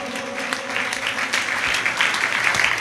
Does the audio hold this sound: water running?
no